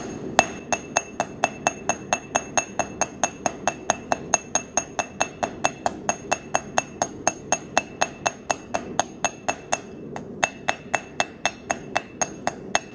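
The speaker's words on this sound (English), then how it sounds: "you can take the flat side of your hammer if you want it first and flatten it out a little bit just to give yourself a better strike zone" A blacksmith's hammer strikes metal on an anvil to flatten and spread the piece, giving a long, evenly paced series of bright, ringing blows close up.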